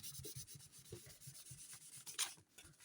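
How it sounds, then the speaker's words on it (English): Paper is rubbed by hand to wipe off excess coating while faking vellum, giving soft, quick, repeated scrubbing strokes close up and quiet, with one slightly louder swipe near the end. "I'm just rubbing off that excess."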